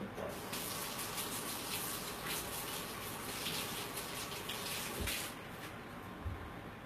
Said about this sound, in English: let me wash my hands a second